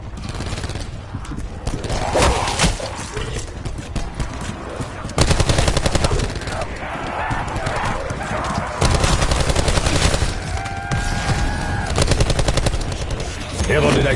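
A lightweight Gatling-style gun fires rapid bursts in a Western movie scene, loud crackling volleys that run in several long stretches, mixed with other film sounds.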